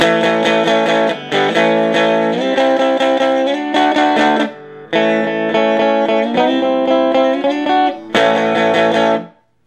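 Heavily distorted electric guitar chords through a solid-state amp ring out loud and close, struck in a series of sustained strums with short gaps between them.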